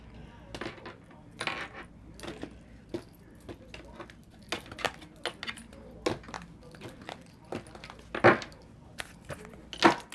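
A deck of tarot cards is cut and shuffled during a reading, giving a run of soft, close card slaps and taps with a few sharper clacks, quiet and uneven.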